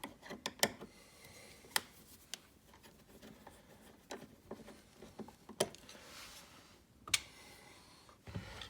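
A Phillips screw backed out with a screwdriver from a car's interior vent panel, heard as faint, sparse mechanical clicks and ticks spread across a quiet background.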